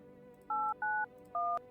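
Three clean two-tone telephone dialing beeps from a video game's phone roulette, each lasting about a quarter second with short gaps, clear and close over a faint background hum.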